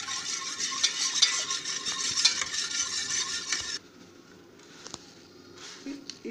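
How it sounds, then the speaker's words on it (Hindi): Kadhi batter being whisked and mixed for kadhi pakoda, a steady, brisk scraping and sloshing for several seconds that then stops, leaving quieter kitchen clinks. "फेंट लेना है। अच्छी ढंग से मिला लेना है।"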